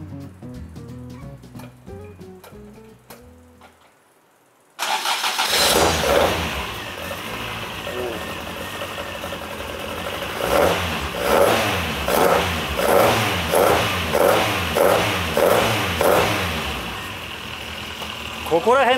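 A Toyota AE85 fitted with a Hayabusa engine cranks and fires up after a short spell of talk, then idles roughly before a series of sharp, rhythmic revs close by.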